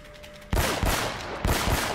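Gunfire in the video game Uncharted: Drake's Fortune: three loud, sharp shots, each ringing briefly and decaying, spaced unevenly over two seconds after a quiet start.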